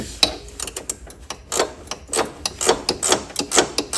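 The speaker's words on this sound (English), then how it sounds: "I'll put the ratchet wrench on the nut, right there." Ratchet wrench turning a 10 mm nut on a John Deere 42-inch mower's blade brake, loud close clicking in uneven quick bursts of strokes, no speech.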